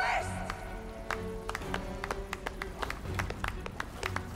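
Scattered hand claps from a character in the video game Marvel's Guardians of the Galaxy, sharp separate strikes repeating unevenly over a game soundtrack, with voices talking through parts of it.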